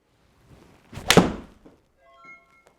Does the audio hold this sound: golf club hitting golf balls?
yes